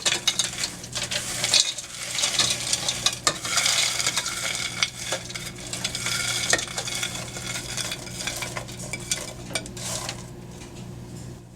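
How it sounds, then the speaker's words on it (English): Spoon stirring milk and butternut squash in a large pot on medium-high heat, a steady scraping and clinking rhythm of utensil against metal, close and continuous, no voices. "Give it a quick stir"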